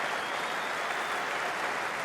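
Sustained applause from a cricket crowd at a Test match, honouring Justin Langer reaching 7,000 Test runs; dense, steady clapping fills the ground evenly throughout without a break.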